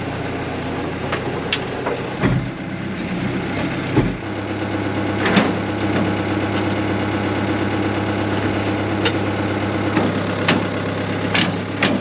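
A John Deere 100-series tractor engine idling steadily on a farm before hitching to a silage wagon, a loud close low rumble with occasional metallic clanks and knocks over it, no one talking.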